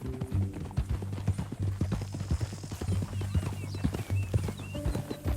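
Horse hooves clip-clop in a steady trotting rhythm in the video game Red Dead Redemption 2, close and clear, with a low hum and faint voices in the background.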